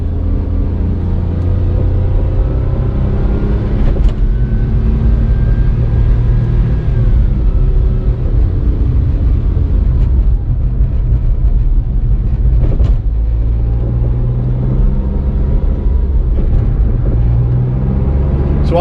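A Smart ForTwo 450 with a 0.7 litre turbocharged three-cylinder engine drives along, giving a steady loud low rumble with shifting engine tones and a few brief clunks, and no talking.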